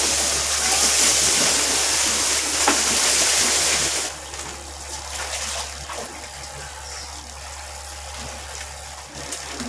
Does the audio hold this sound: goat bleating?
no